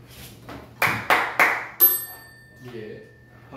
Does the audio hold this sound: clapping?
yes